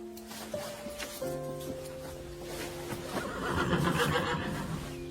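A horse whinnies with a long, tonal neigh over a steady outdoor background, followed by rougher snorting and breathy sounds as the noise swells, heard near and fairly clear.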